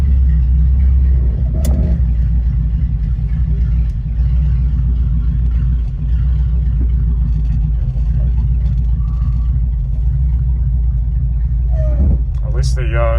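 A Mercedes 300SEL 6.3 engine idles with a steady, loud low rumble throughout, continuous and near, with a brief higher whine and clunk near the end; no talk over it.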